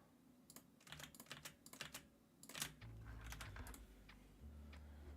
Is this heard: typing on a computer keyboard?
yes